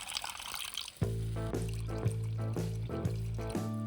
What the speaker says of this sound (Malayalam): ബാക്കിയുള്ള കുടപ്പുളി വെള്ളവും കുറച്ച് വെള്ളവും ചേർത്ത് നമുക്ക് അരപ്പ്